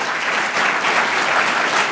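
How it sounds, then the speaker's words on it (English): Sustained, dense applause from an audience closing an evening talk on Alzheimer's disease research, loud and even throughout with no speech over it. "a big round of applause for our wonderful speakers"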